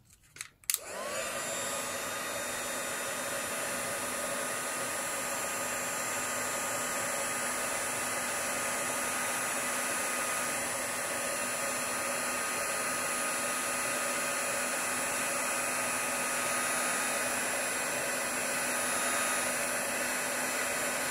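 An embossing heat tool blows a steady, loud whirring stream of hot air to melt embossing powder, starting with a click and running on unbroken with no talk.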